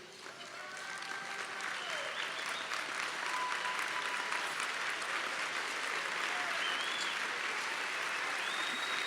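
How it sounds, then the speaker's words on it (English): A crowd of diners rises for a standing ovation honoring legislators, with dense, steady applause that builds quickly and holds loud and even throughout, a few voices faintly audible underneath. "on your feet and applause for these legislators, please"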